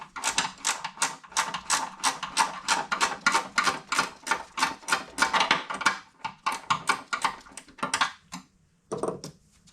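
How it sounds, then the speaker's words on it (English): A ratchet wrench clicks rapidly and rhythmically while backing off the single 13mm nut on a Vespa P200E scooter's rear shock. Bursts of close, sharp clicking slow and turn irregular near the end. "to remove the rear shock, it's just a single 13mm nut that's in here"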